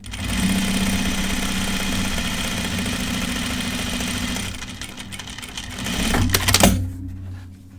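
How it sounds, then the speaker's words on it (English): A sewing machine runs steadily while top stitching a pair of men's Jutland pants, a continuous close mechanical whir that slows and briefly surges near the end before stopping. "Okay, so I'm top stitching it."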